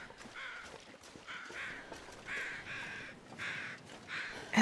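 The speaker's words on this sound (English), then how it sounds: "Oh, wait, wait, wait. I hear birds." A flock of birds calls in the survival game The Long Dark: faint, distant, caw-like cries repeat in short bursts over a quiet outdoor background.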